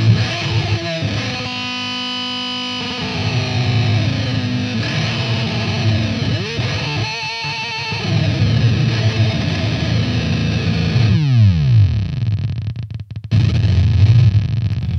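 Electric guitar through an EarthQuaker Devices Data Corrupter pedal, with harsh, glitchy synth-like tones, sliding and stepping pitches, and a falling pitch sweep near the end. It plays loud and continuous, with no talking.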